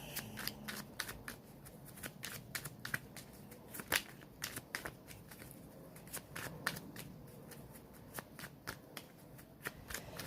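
Tarot cards being shuffled by hand, with a dense run of crisp riffling snaps and slaps as a bunch of cards spills out, close and clear with no talking.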